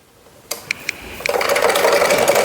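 Sewing machine stitching a folded edge on a kitchen apron; a few clicks, then the motor starts and runs into a steady, close whirring rattle.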